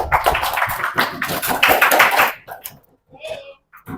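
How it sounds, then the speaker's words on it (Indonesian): Junior high students clap in a classroom for about two seconds, a dense, close patter of many hands that stops abruptly and leaves a few quiet taps and scattered voices. "beri tepuk tangan untuk kita semua"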